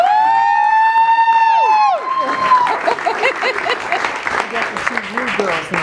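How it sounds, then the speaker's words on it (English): Loud crowd applause and cheering for a presenter taking the stage, a dense steady wash of clapping that follows a sustained tonal fanfare-like sound and carries on to the end. "Give him a big round of applause."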